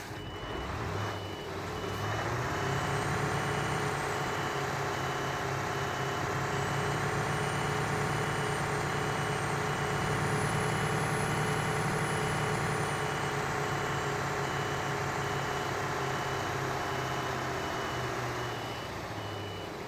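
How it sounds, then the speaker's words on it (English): A truck in Euro Truck Simulator 2 reverses with a steady train of evenly spaced electronic beeps, loud and continuous over a low idling engine rumble. "You guys enjoy the beeping when we're in reverse"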